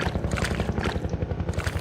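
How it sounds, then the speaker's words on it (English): Helicopter rotor in Half-Life 2, a loud, fast rhythmic chopping thump that runs steadily and close, with no talking over it. "More helicopter."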